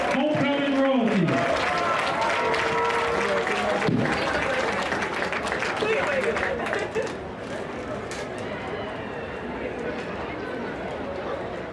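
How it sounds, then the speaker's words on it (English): Large football crowd at a 2024 homecoming game applauding and cheering the homecoming royalty, a loud continuous wash of clapping and crowd noise throughout, with a sustained cheer early on and scattered voices in the background. "please make a round of applause for your homecoming 2024 homecoming royalty."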